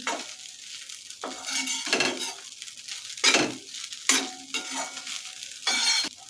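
Misal stirred in a pan right after salt goes in: scraping, rustling stirring strokes in bursts, with faint sizzling and occasional clinks of the spoon against the pan between them, close and fairly loud, no talk.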